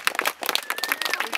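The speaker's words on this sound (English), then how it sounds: "Give yourselves a round of applause for coming out" Riders at an outdoor mountain bike trail jam give a short burst of clapping and cheering, with a brief whistle in the mix and lively crowd noise up close.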